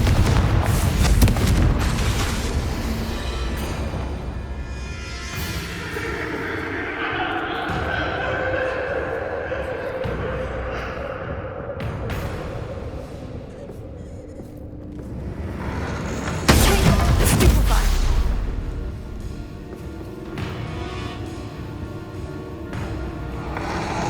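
Confringo blasting spells in a PlayStation video game set off repeated deep booming explosions, loud and rumbling, with a spoken voice running throughout and one especially heavy blast near the end.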